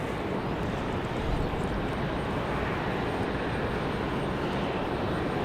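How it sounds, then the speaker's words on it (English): An airliner auxiliary power unit runs at an airport apron, a steady broadband engine roar heard from a distance without talk. "see the APUs running"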